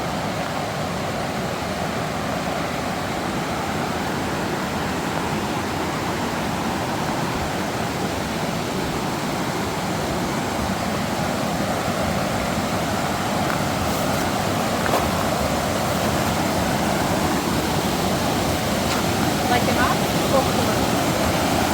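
A loud waterfall roars close by along a walking trail, a dense, constant rush of falling water that fills the whole stretch without pause.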